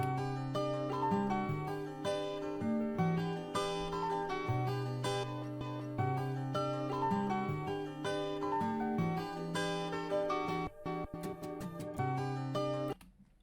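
A short melodic electronic music sample looped in FL Studio, with steady bass notes and a repeating pattern, playing twice through at moderate volume before cutting off.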